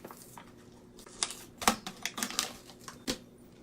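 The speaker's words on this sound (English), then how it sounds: "That was the sound of a Pringles being opened." Pringles can being opened: a quick run of soft, dry clicks, pops and crinkly taps, close up and fairly quiet, with no talking.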